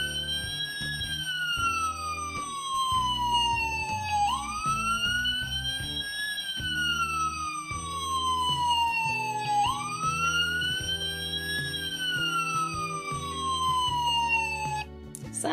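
The siren of a mountain rescue 4x4 fire vehicle wails continuously, sweeping up and down in long repeating cycles, loud and steady throughout.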